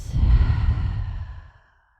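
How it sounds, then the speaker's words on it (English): One full, deep breath in and out during a yoga practice, a loud close sigh-like exhale that fades away over about two seconds. "Take a full breath in and a full breath out."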